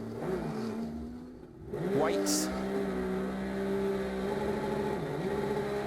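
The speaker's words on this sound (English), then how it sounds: "something is broken. Whether it's the clutch or the drive line, he tries several gears, no forward drive" Onboard a race car at Fuji with a broken clutch or driveline, the engine revs up and down through gear attempts with no forward drive, a steady close whine and buzz over brief talk.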